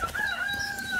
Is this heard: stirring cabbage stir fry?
no